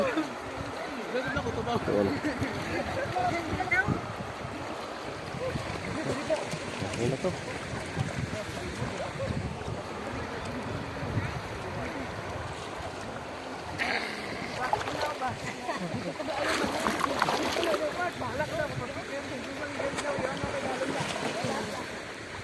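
Rushing water of a big provincial river flowing through a deep section, a continuous broad rush close by, with someone talking over it now and then.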